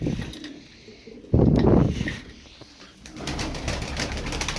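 Turkish Ala game pigeons coo in soft, low bursts, with one loud fluttering rush partway through and a steady low murmur of birds afterward, close by.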